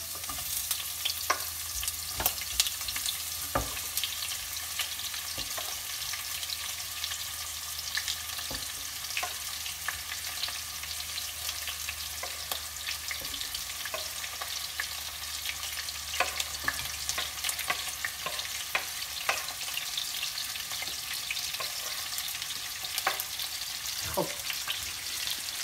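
Onions sizzle and fry steadily in a pan, a close, continuous crackling hiss with scattered sharp pops and occasional stirring, and no talking.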